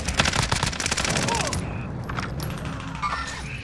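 Rapid automatic gunfire in Call of Duty: Modern Warfare, a loud burst of closely spaced shots for about a second and a half, then quieter scattered cracks and faint voices.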